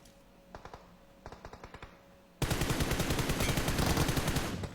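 Automatic gunfire in the mobile battle royale game PUBG Mobile: a few short, sharp bursts of shots at first, then a sustained loud rapid spray of rounds that continues to the end.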